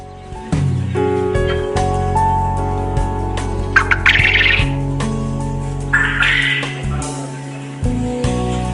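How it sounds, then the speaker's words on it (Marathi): Quail call on a quail-rearing farm in Sindhudurg, a series of short chirps and squawks scattered over a steady background hum, with no talking. "सामान्य भाषेमध्ये सांगायचं झालं तर हा बटेर पक्षी"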